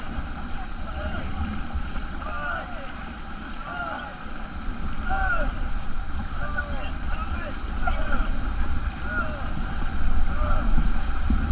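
White-water raft on river rapids at Kithulgala: a constant roar of rushing water and wind buffeting, with people shouting over it throughout.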